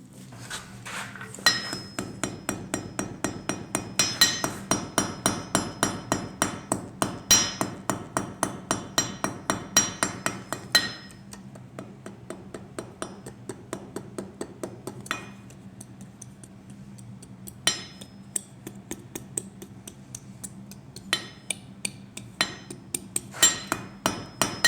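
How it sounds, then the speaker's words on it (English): Light, rapid hammer taps ring out on an anvil as a blacksmith forges thin material for a Viking rune necklace, bright metallic clinks in steady runs with brief pauses between bursts. "I'm forging with light taps"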